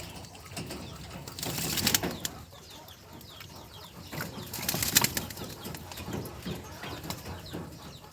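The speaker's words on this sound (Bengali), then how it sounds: "এই যে দেখেন সবাই গোসল করে কেমন মানে শরীরটাকে যত্ন করতেছে, ফেদারগুলোকে সুন্দরভাবে নেড়ে চেড়ে দিচ্ছে।" Pigeons bathe in water and ruffle their feathers, giving a busy stream of splashing and wing flapping that peaks in two bursts, close by, with no voices.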